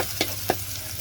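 Onion frying in a pan makes a steady sizzle, with two quick stirring scrapes close together early on; no speech.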